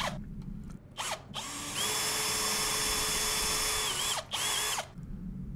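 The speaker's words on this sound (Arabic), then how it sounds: "وببنطة 8 ملي هنعمل ثقب مكان العلام" A power drill with an 8 mm bit bores a hole in a wooden board, loud whining bursts that stop and restart, with a long sustained drilling run in the middle.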